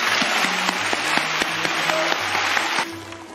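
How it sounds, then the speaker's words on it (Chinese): Applause at the Golden Horse Awards ceremony welcoming a guest from Korea, a steady moderate crowd clapping in a large hall with faint musical tones underneath, fading slightly near the end. "掌声欢迎他"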